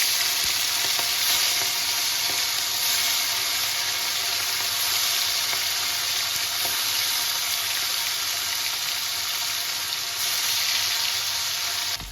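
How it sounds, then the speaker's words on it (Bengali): Boirali fish frying in hot oil in a pan, a loud, steady, close-up sizzle that hisses continuously without pause, with faint clicks scattered through it. "এখন এখানে আমার তেল গরম হয়ে গেছে। এবার মাছগুলোকে আমি এক এক করে ছেড়ে দেবো।"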